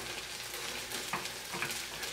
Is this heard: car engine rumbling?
no